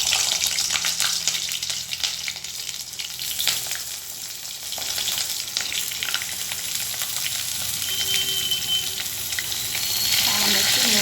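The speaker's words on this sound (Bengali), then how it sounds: "এখন এখানে পটলগুলো দিয়ে ভেজে নেব।" Pieces of pointed gourd fry in hot oil in a wok seasoned with nigella seeds. A steady, dense sizzle and crackle holds close and loud throughout, with occasional stirring scrapes.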